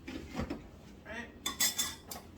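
A utensil stirs a lasagna mixture in a pot, giving several close metallic scrapes and clinks in an uneven rhythm, with no talk.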